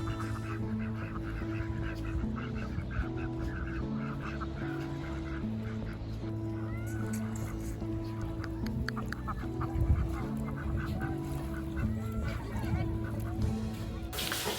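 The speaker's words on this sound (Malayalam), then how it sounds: "കുറച്ച് താറാവുകളും കാര്യങ്ങളൊക്കെ ഉണ്ട്" Ducks at a beach resort in Bahrain honk and quack in a close, busy chorus, with overlapping calls continuing throughout over a steady background hum.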